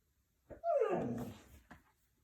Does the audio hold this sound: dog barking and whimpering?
yes